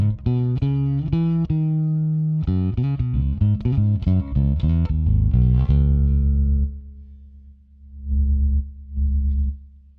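Clean electric bass through the neck pickup playing a quick run of plucked low notes, then a long sustained low note that swells and fades twice.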